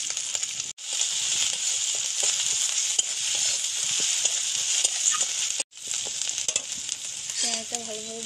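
Ginger paste, turmeric and chili powder frying in hot oil, a steady bright sizzle broken by two brief silent gaps, with light stirring scrapes throughout.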